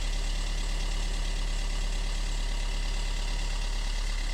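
A 1.3 CDTI diesel engine in an Opel Astra J idles after a cold start at -17°C with a low, even rumble and a faint knocking clatter, unchanging throughout, with no voices.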